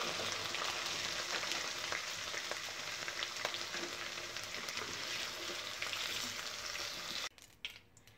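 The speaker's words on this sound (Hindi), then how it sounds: "दो मिनट हो चुके हैं और आलू तकरीबन हमारे जो है वो फ्राई हो चुके हैं" Potatoes half-fry in hot oil for a dhaba-style mixed vegetable dish, a dense continuous crackling sizzle heard up close that drops away near the end.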